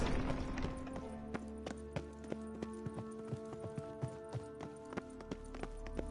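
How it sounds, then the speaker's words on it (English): Footsteps in The Witcher 2, a regular run of sharp, evenly spaced steps close by over a sustained low ambient drone, with no talk. "Footsteps."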